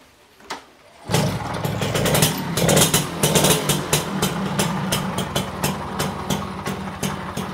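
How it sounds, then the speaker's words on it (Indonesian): A 2014 motorcycle test-started: a brief click, then the engine catches and runs with a loud, uneven sputtering idle punctuated by sharp revving bursts, close to the listener. "Ini kita tes mesinnya ya, kontaknya ada di samping."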